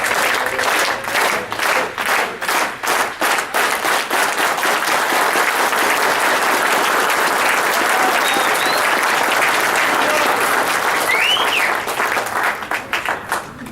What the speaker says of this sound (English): giving the guest speaker, the senator, a Chicano clap